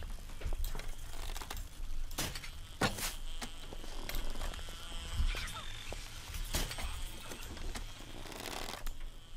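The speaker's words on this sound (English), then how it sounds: "Come here, you stupid bee." A bee buzzes in the survival video game 7 Days to Die. The whine is thin and steady and sits under faint game noise and scattered clicks and thuds.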